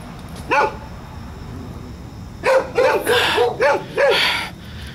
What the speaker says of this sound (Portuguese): os cachorros estão muito irritados aqui